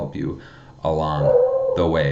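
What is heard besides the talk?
dog barking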